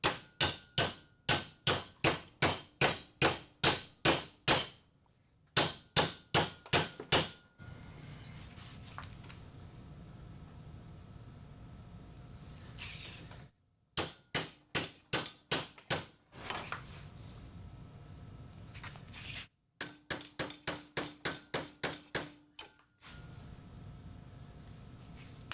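Hammer blows on steel being bent for a camper's solar panel mount ring out in rapid bursts of sharp, loud metallic strikes, separated by pauses with a low background hum.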